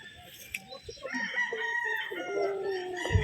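A young stag rooster of the Boston line crows at the Taxman gamefarm, one loud, drawn-out cock-a-doodle-doo close by after a few soft clucks, with other birds faintly around.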